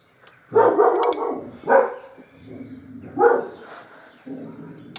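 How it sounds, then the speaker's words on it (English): Dogs bark outdoors in a few loud bursts, separated by gaps, with some quieter yips and rustling between them. "The dogs are having a whale of a time in the garden, as you can maybe hear."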